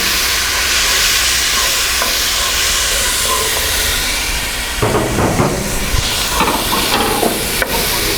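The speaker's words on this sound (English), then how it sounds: "now add about 2 or 3 tablespoons of water straight from the kettle" Spoonfuls of water from a kettle hit a hot pan of BBQ sauce base, giving a loud, continuous sizzling hiss with some stirring and clatter toward the end.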